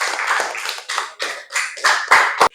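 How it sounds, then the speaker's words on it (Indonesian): Pupils in a classroom applaud group 1, giving a short, close round of hand clapping in uneven bursts. "Berikan aplaus untuk kelompok 1"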